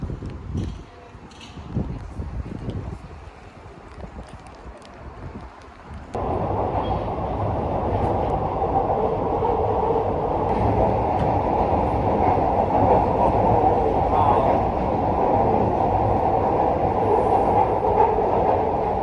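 Glasgow subway train running through the tunnel, a loud steady rumble and roar that swells in after a quieter stretch of clattering and stays continuous to the end.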